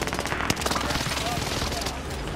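Bursts of rapid gunfire in a Fortnite-style shooter match, a crackling volley of shots that rattles on steadily under a speaking voice, moderately loud and continuous.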